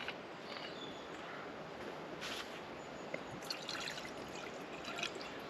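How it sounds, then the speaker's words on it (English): A little water trickles into a cooking pan outdoors, a soft, quiet stream with faint splashes over steady open-air background noise. "my second pan, I'm going to fill with a little bit of water, not too much"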